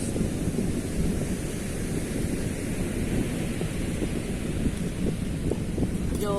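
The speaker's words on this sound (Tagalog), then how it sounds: "Medyo maingay po yung hampas ng alon" Surf roars continuously nearby, a broad wash of crashing waves mixed with wind buffeting the microphone.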